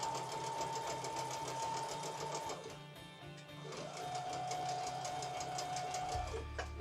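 A sewing machine stitches quilt rows together in a steady, continuous run near the mic, pausing briefly midway before resuming, with a motor thump near the end.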